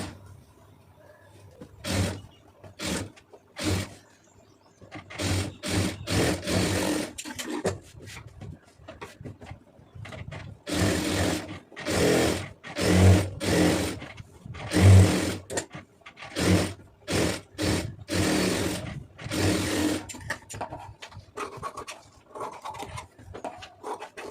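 A sewing machine stitches a lined blouse in repeated bursts of rapid whirring, starting and stopping in short runs and longer stretches, close and fairly loud.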